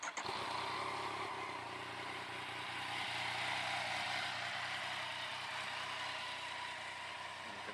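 A 2015 Yamaha FZ-09 motorcycle engine turns over and settles into a steady idle, a continuous close-up rumble that stays even throughout with no talking.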